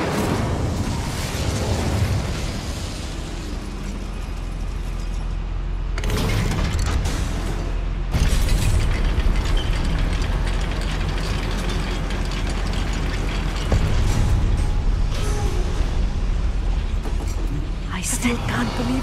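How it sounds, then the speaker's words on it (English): A goblin mine lift mechanism in the video game Hogwarts Legacy runs with a continuous grinding, ratcheting clatter of gears and a deep rumble, swelling louder partway through. "Look at this lift. Impressive workmanship for so simple a device."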